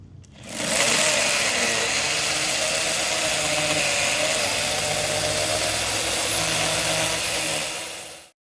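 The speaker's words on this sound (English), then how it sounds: "And cue chainsaw." A loud, steady chainsaw drone runs continuously for several seconds after a quiet start, held at a constant rev, then cuts off abruptly.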